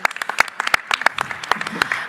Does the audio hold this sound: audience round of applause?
yes